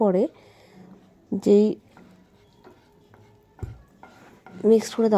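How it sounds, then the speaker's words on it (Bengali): Ghee and turmeric are stirred in a pan for basanti pulao, with a spoon giving scattered metallic clinks and scrapes while a voice speaks over it at intervals. "হলুদ দিয়ে তারপর আমি ঘিটাকে ভালো করে নাড়িয়ে দেবো"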